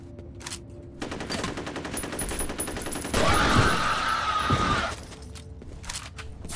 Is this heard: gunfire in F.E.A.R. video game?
yes